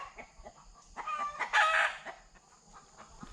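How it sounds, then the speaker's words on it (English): Hens cluck in scattered bursts before a rooster crows loudly midway, its call ringing out clearly over the ongoing clucking. "I have a chorus of chickens behind me here."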